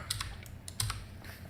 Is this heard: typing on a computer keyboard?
yes